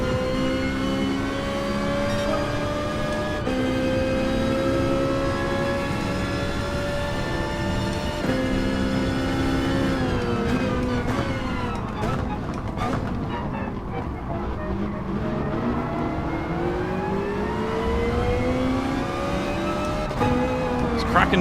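Racing cars, many of them front-wheel drive, run in a sim racing video game, with engines revving and shifting through gears in a steady loud drone across the whole stretch.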